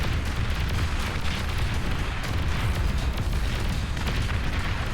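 A destroyer firing a broadside in the real-time strategy game Beyond All Reason, heavy overlapping booms and rumbling blasts forming a continuous loud barrage, close and dense throughout.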